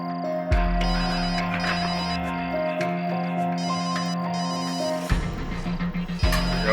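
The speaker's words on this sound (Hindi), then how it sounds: "फोन यहाँ आसपास ही बज रहा है।" A mobile phone ringtone plays close by as a looping electronic melody under a low background hum, and a thump is heard partway through.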